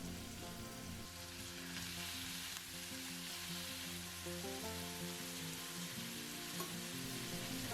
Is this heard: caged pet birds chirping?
no